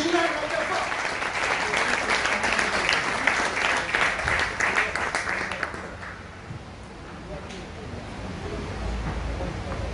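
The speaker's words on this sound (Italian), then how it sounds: "un grande applauso a tutta questa organizzazione" A theatre audience at a café-chantant style show applauds the organizers, a dense burst of clapping that runs for several seconds and then fades, leaving a quieter room with some murmur.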